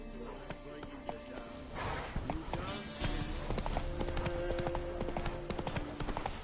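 Roach the horse in The Witcher 3, hooves clip-clopping in a quick steady galloping rhythm, close and moderately loud beneath game music and voices talking.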